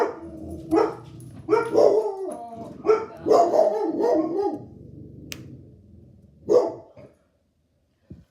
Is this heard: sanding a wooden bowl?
no